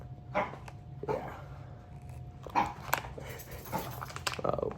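A small male dog gives several short barks and yips at irregular intervals, moderately close but not loud, over a quiet room.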